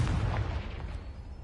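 A Confringo explosion spell cast in the video game Hogwarts Legacy, a short deep boom with a rumbling low end that fades quickly.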